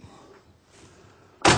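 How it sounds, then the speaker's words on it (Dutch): A door in a very cramped garage slams shut near the end, one loud sharp thud after quiet rustling and handling. "Voilà, de deur van Noto is toe"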